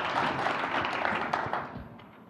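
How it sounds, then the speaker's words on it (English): An audience at a cannabis policy forum applauds a panel, a brief burst of many hands clapping nearby that thins and fades out over a couple of seconds. "Let's give this great panel a round of applause."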